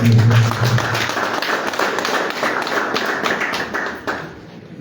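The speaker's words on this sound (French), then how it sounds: "J'aimerais que vous applaudissiez" Audience applause at a press conference, a dense steady wash of many hands clapping at moderate loudness, continuing evenly before thinning out near the end.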